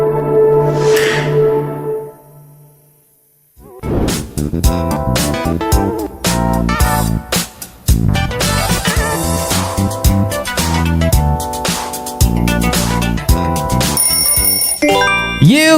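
Disney Plus audio logo: a soft shimmering swell that fades to silence, then a bright, loud orchestral fanfare of ringing bell-like chimes and sustained chords that carries through to a sparkling close.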